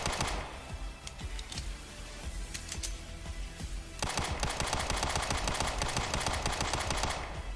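Rapid, sharp shots from a Gat9 semi-auto pistol in the tactical shooter Due Process, fired in quick succession, growing louder and denser partway through, with no talking.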